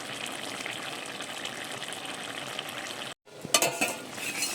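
Fish curry simmering with cumin and chili powder added, a steady close bubbling sizzle with stirring, a brief silence, then louder clattery bubbling and stirring resumes.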